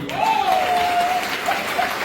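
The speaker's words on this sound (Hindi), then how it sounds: "एक जोरदार ताली बजनी चाहिए।" Audience applause at a Hindi motivational or business gathering, continuous crowd clapping with a tonal whistle-like sound gliding over it.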